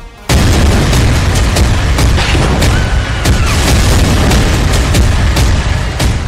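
Hezbollah rockets strike Haifa in wartime night footage, with a dense, loud barrage of deep booms and sharp blasts repeating over a constant roaring rumble.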